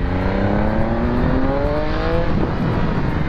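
A 2018 Triumph Speed RS motorcycle riding off, its engine tone rising steadily through the gears, loud and close with constant wind rush and no talk.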